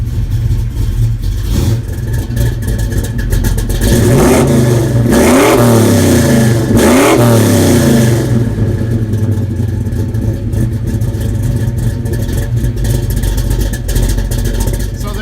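A car fitted with Holley Sniper fuel injection fires up and revs, a few loud throttle blips rising and falling near the middle before settling into a steady close idle rumble.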